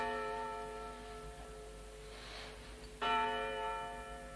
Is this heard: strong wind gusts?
no